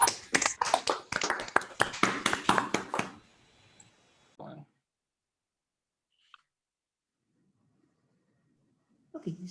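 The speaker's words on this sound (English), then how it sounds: "unmute once again for a second round of applause to Umberto" A few people clap over a video call after an academic conference talk, a quick burst of thin, compressed hand claps for about three seconds that abruptly stops. Brief quiet speech and near-silence follow.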